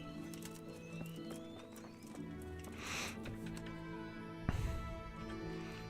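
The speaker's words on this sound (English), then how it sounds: "Vaya, hombre, me ha tocado el caballo vago" Horse hooves clip-clop at a relaxed walking pace in Kingdom Come: Deliverance, soft and fairly quiet over game ambience, with a brief louder thump partway through.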